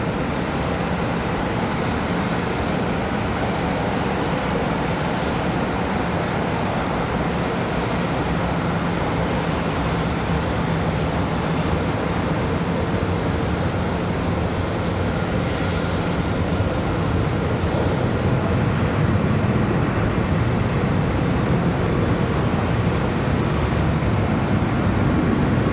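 A Lufthansa heavy airliner arriving at Charlotte Douglas airport gives a loud, continuous broadband jet roar that holds steady and swells slightly toward the end, with no voices.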